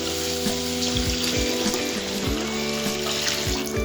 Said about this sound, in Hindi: तो इसमें हम फुल पानी डालेंगे